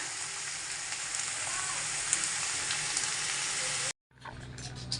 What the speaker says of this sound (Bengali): এখানে আলু ভাজা বসিয়ে দিয়েছি